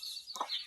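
A Bombay hen with six white chicks gives one brief cluck amid faint, high chick peeping, all over in under a second.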